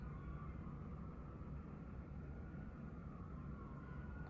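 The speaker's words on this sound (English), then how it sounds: "Sorry for the sirens." A distant siren wails faintly over a heavy, steady rumble of low city traffic noise.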